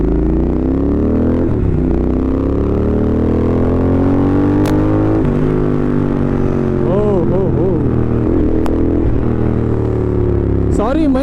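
Motorcycle fitted with loud Motoking headers, a full-system exhaust and a K&N air filter, idling with a deep, bass-heavy throb. Sharp rev blips break in several times, and the engine stays loud and close throughout.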